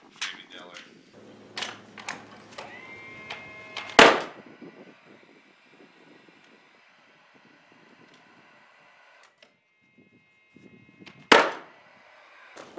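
A nail gun drives nails into roof boards on a ferrocement house, two loud sharp bangs several seconds apart amid faint mechanical clicks, with a gas-powered compressor humming quietly and brief talk early on.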